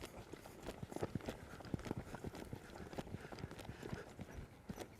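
A horse that is no fancy show horse clip-clops as it is asked to move around, with steady, fairly close hoofbeats repeating in an uneven walking rhythm, and no talk over them.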